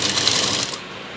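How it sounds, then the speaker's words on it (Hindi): Domestic sewing machine stitching a round blouse neckline with a boat-neck design, a dense steady mechanical whir for most of a second that drops away abruptly, close and moderately loud. "अब हम पूरा इसको सिल लेंगे।"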